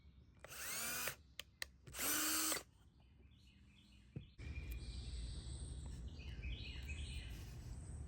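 Two short whining bursts of a power drill, then a quiet pause with faint chirps, followed by steady grinding as the bit bores into a test piece of wood.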